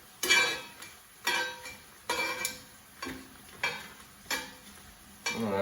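Dried guajillo chilies toasting in a hot pan for beef barbacoa, a run of brief crackling sizzle bursts about once a second, each swelling then fading, close and clear with no talk.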